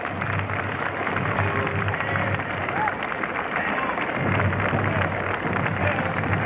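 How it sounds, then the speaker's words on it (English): A crowd along a Memorial Day parade route claps in a dense, steady wash of applause that sounds like heavy rain, with faint voices mixed in. "Getting a nice round of applause from the crowd."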